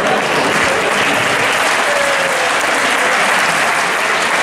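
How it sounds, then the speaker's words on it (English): Dense, steady applause from a congress audience fills the hall without a break, loud and even, with a faint voice briefly audible through it. "So here, please a round of applause."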